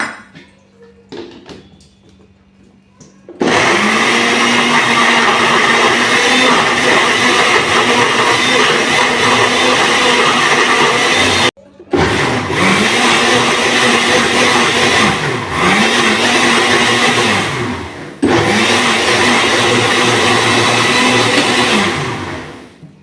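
A mixer grinder blending mint chutney with onion, sugar and a little added water roars loud and close in long steady runs, with short pauses between bursts and no talk over it.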